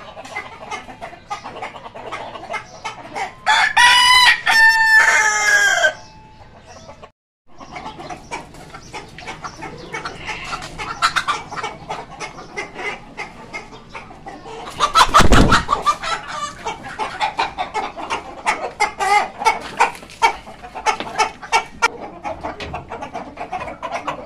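Chickens cluck and squawk in a loud burst near the start, then fainter clucking and scattered calls continue with another sharp squawk later, close by in a yard where a black hen was killed by a cat.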